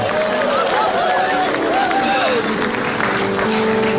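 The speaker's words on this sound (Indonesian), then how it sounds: "Tepuk tangan untuk calon Tom." A studio audience on an Indonesian comedy talk show applauds a contestant, with loud continuous clapping and crowd noise while voices talk and call out over it.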